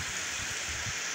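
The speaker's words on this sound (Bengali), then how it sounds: "প্রচণ্ড আকারে বৃষ্টি।" Heavy rain from a low-pressure system falls in a steady, dense hiss with no pauses, close and fairly loud.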